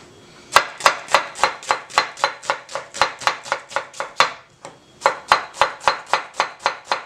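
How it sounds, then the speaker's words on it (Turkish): Rapid, even knife strokes chop an onion on a cutting board, about two per second, close and crisp, with a brief pause midway. "Daha sonra arkadaşlar soğanı doğramaya geçiyorum"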